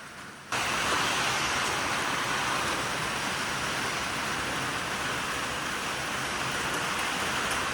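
Heavy wind-driven rain from a morning squall line starts abruptly and then pours steadily and loudly, a dense unbroken hiss of downpour.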